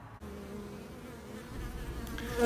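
A steady, close drone of many honeybees buzzing together at a hive, swelling slightly louder toward the end.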